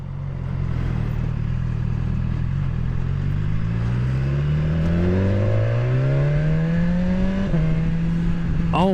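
A BMW XR motorcycle accelerates hard, its engine pitch rising in smooth sweeps with quick upshifts between, loud and close under heavy wind noise, no talking.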